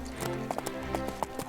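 A horse's hooves clip-clop in a quick, uneven rhythm, several sharp close knocks over a steady low hum.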